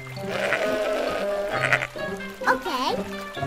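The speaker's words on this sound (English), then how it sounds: "Sheep." A sheep bleats in several loud, wavering, nasal calls close to the listener, the last call rising and falling.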